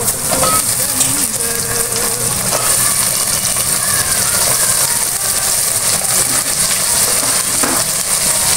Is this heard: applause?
no